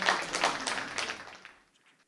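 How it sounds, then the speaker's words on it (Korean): Audience applause at an academic conference, a brief burst of clapping from a seated crowd that quickly thins and fades out within about two seconds. "큰 박수로 맞아주십시오"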